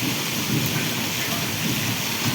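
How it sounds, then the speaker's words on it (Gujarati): Heavy monsoon rain pours steadily in a Gujarat village while a deep, rumbling roll of thunder swells underneath; no one speaks. "જો કડાકો થયો, કડાકો એટલે ભારે વરસાદ ચાલુ છે"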